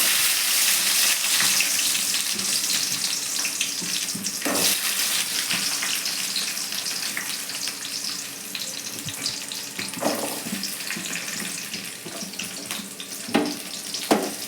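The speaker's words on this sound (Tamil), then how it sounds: "வெங்காயம் கொஞ்சம் நல்லா வதங்கட்டும் நல்லா எண்ணெயில் வதங்கட்டும்" Steady sizzling and crackling of chopped onions frying in hot oil for a garlic curry, with occasional louder stirs and clatters from a pan nearby.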